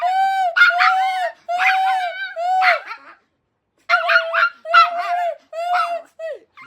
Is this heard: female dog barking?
yes